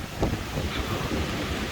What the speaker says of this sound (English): that's a cool waterfall